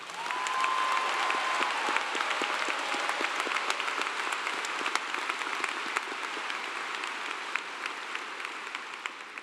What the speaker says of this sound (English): will you please give a big, loud round of applause to Elena Yarborough for the great job she did singing the national anthem?